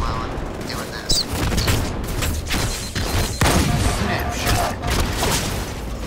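Rapid gunfire in Halo 2 Anniversary multiplayer, a dense burst of shots and booms running continuously through the clip, loud and close.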